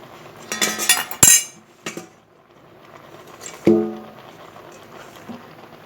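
A lid set down over a cooking pan of spinach curry with bori, beans and brinjal on a gas stove, giving a bright metallic clink followed by a few lighter rattles and a later duller clatter, close and without talk.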